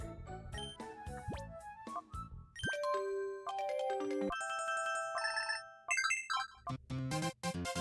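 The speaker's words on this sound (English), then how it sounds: "why don't I pick a fun ringtone for IPDA?" Phone ringtone melodies from the video game Pokémon Colosseum play alone as a quick series of bright electronic chimes and jingles, with several distinct tunes following one another, some rising arpeggios and some repeated beeping notes.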